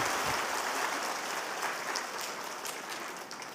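A church congregation applauds during a Sunday worship service: dense, sustained clapping from many hands that fills the space and tapers slightly toward the end, with no talking.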